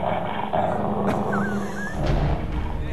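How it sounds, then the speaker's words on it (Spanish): A dog growls and barks close by over a continuous background of crowd noise and studio sound, steady throughout with no clear breaks. "¿Qué? ¿Un perro?"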